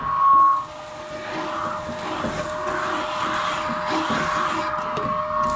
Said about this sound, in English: Alright guys, I got the vacuum running.